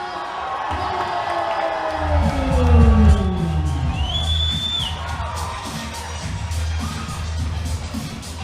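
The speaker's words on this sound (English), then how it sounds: "you can hear the reverence of the Singapore crowd as they salute their local hero, Hamzah Farouk." A boxing arena crowd in Singapore cheers and roars for a local fighter at a championship event, with whoops and shouts swelling to a loud peak before settling into sustained, noisy cheering.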